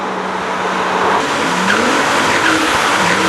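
Tyres of a Porsche 997 GT2 skidding on a wet road in the rain. A loud, close, continuous hiss of spray and tyre noise lasts throughout, with faint squealing tones sliding beneath it.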